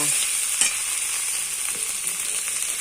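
Spices fry in oil in a pan before banana flower is added, producing a continuous bright sizzle with a few faint stirring clicks.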